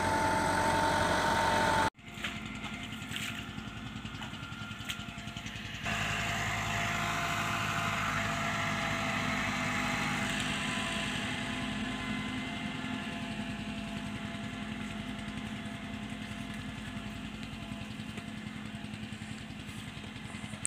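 Tractor engine idling steadily while driving a laser land leveler in a farm field, a continuous close-up droning rumble with a faint vibrating buzz and a short break near the start.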